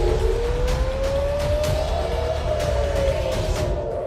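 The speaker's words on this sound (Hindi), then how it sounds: "हर दिन हर मिनट इजराइल की राजधानी में युद्ध वाला सायरन बज रहा है।" An air raid siren wails over Israel's capital with a long, slowly rising tone, heard at a distance over faint traffic noise.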